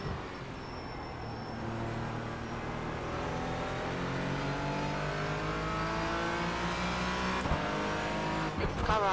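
Porsche Cayman race cars in an IMSA pilot series race at Sonoma, an in-car engine drone rising and falling through gear changes while other cars run close by, steady and fairly loud throughout.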